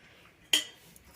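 Metal cutlery clinks once against a plate while rice and chili chicken are served, a single short sharp clink in a quiet room.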